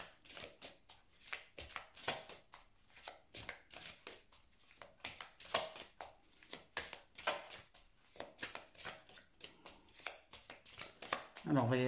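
Oracle cards shuffled by hand in a steady run of crisp riffling slaps and rustles, close and rhythmic throughout, with a voice speaking briefly at the very end.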